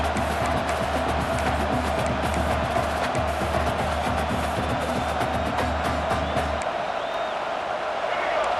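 A stadium crowd in the EA Sports College Football 26 video game roars steadily during a red zone defensive stand, a broad sustained wash of noise under a commentator's voice that drops away near the end.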